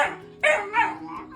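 Dogs give a few short, playful barks and yips in a quick uneven sequence, close and clear with no talk.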